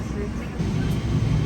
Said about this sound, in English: Engines powering up.